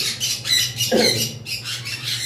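A green Fischer's lovebird of the opaline mutation squawks in a few harsh, close bursts with short gaps, loud and alone.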